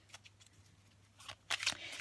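Tarot cards are pulled and handled at close range: soft papery slides and flicks, quiet at first, then a louder burst of rustling shuffles near the end.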